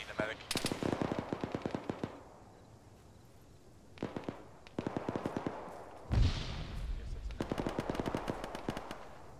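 Bursts of automatic gunfire from a military video game crackle in rapid repeated volleys, separated by brief pauses, with a heavier boom midway and faint speech underneath.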